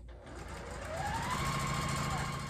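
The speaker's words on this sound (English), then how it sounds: "line up the edges and sew at 1/4 inch" A sewing machine stitching quilt pieces at a quarter-inch seam, a close, continuous fast whirring hum that rises slightly in pitch as it speeds up.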